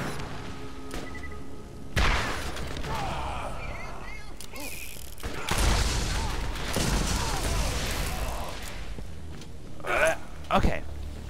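Gunfire from shooting enemies in the video game Borderlands, several loud sharp blasts and bursts with booming impacts and mechanical clatter, mixed with game noise while a voice talks over it throughout.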